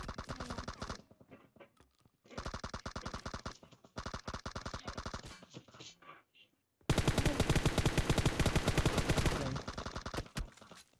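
Automatic gunfire in a shooter video game: loud, rapid bursts with short pauses between them, ending in a long, sustained volley.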